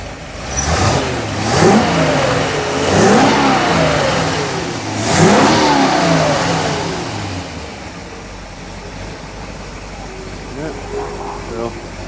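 A rebuilt Ford 390 FE V8 with the same carburetor as a 289, running slightly rich, revs up sharply several times from idle, each blip climbing and falling back, then settles to a steady idle with a short final rev.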